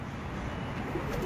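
Pigeon cooing in a low, steady murmur, faint and continuous throughout with a slight swell near the end, no voices present.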